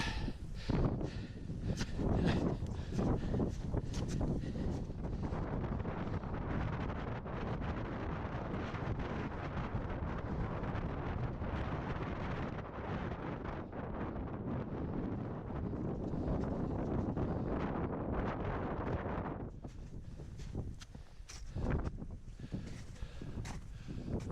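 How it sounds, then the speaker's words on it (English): Strong wind buffets the microphone on the snowy summit of Ben Lomond near a T-bar lift, a loud continuous roar with gusty surges that eases briefly near the end before rising again, with no talking. "It's nice to escape some of the wind."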